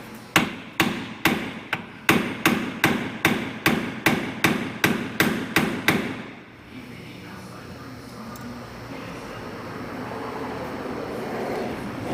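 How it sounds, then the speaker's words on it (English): A hammer strikes metal on a Jeep Liberty about fifteen times in a fast, steady rhythm, loud and close, then stops, leaving a low rumbling background. "Tap that with a hammer a little bit."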